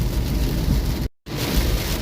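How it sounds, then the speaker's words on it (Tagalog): Heavy rain pours down on a vehicle in a steady, dense roar, cut by a brief moment of silence before the downpour resumes just as strongly. "biglang malakas ang ulan na sumalubong,"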